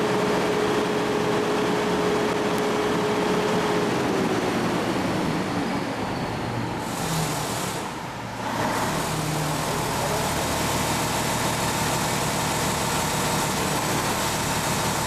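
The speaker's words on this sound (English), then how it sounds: "the engine reaches the rated speed very sharply" A Doosan diesel engine with a DGC 2007 electronic governor runs loud and steady, its tone shifting as it sharply picks up to rated speed, then settling into a constant drone; no voices.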